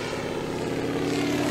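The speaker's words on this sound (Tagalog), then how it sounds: "Kakalipad pa lang ng kanyang eroplano" An airplane taking off: a loud, steady propeller-engine drone that fills the whole moment and swells slightly toward the end, with no voices.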